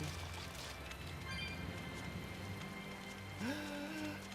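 Steady rain falls throughout a Tales of Berseria game scene, a dense even patter on surfaces with a brief tonal game chime near the end.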